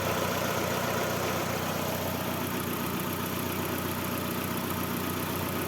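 Car engine idling steadily during a radiator flush, a constant, even hum heard close up with no talking.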